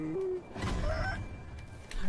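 Roosters clucking and crowing in a video game, a short rising cackle followed by clucks, moderately loud against game background noise.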